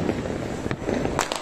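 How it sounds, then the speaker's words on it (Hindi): Dense crackling bursts of Diwali fireworks and firecrackers popping continuously in the distance, with a few sharper, louder cracks standing out near the end. "ये देखिए चारों तरफ पटाखे बज रहे हैं"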